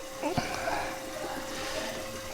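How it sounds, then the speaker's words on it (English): Water pours and gurgles into the sump of a Red Sea Reefer 350 reef tank, a steady broadband rush that runs unbroken for the whole stretch, close by, with a few brief splashy knocks near the start. "Water's coming in right now"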